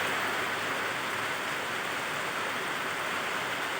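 Steady, even rain pours down outdoors in Antipolo with a constant hiss, fairly close, no voices.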